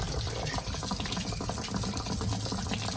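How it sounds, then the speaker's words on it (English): Water gushes steadily out of an opened drain on an RV water heater, a continuous splashing pour that stays close, with no voices. "Okay, so we're just undoing that, and out goes the water."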